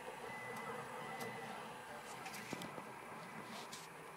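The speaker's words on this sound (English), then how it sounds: "I'll show you the printer." A MakerGear Prusa 3D printer printing a whistle whirs steadily with faint stepper-motor whines and small clicks, heard close and quiet with no talking.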